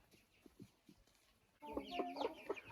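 Silkie chicks and a broody hen in a chicken coop, soft clucks and cheeping building into a busy, close burst of overlapping bird calls after a few quieter pecks.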